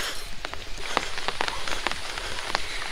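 Rain falling outdoors on a sunny day near a monastery (math) in Bengal, steady close patter with scattered sharper drops throughout, no voices.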